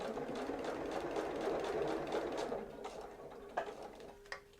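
Sewing machine stitching plastic storage pockets, a fast steady whirring run that slows and stops, followed by a couple of isolated clicks, close and alone without talk.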